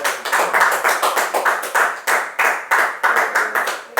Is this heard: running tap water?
no